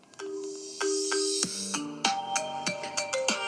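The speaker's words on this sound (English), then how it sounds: "I stored a ringtone right there" A melodic phone ringtone plays alone, a sequence of bright synthetic tones rising and shifting in a catchy tune, clear and close.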